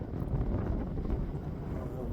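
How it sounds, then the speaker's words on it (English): Wind buffets an outdoor microphone in a wooded spot, a continuous low rumbling roar that swells and eases in gusts, fairly loud and close, with a voice faintly underneath. "The wind's gusting through this spot. Might be affecting my sound a little bit."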